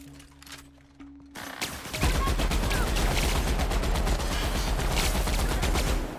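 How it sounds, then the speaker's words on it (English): A heavy machine gun in The Outer Worlds opens up after a short pause and then hammers out a loud, continuous rapid-fire stream of close shots that keeps going to the end. "Switch to the heavy machine gun for now"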